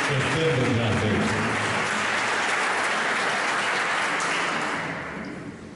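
Dense audience applause at an Andalusian poetry recital, steady and full for several seconds before gradually tapering off at the end.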